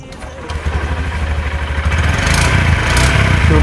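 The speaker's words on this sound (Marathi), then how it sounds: "चावी चालू करून गाडी स्टार्ट केली आणि इंजिनचा तो थेट आवाज काळजाला भिडला." Honda SP125 motorcycle engine starting up close, a throbbing pulsing start that settles into a steady, louder idle rumble.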